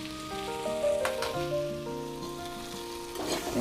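Bitter eggplant fries on low heat in a pan and is stirred, ahead of fish heads going in. A soft sizzle sits beneath a clear melodic music track, with a brief scrape near the end.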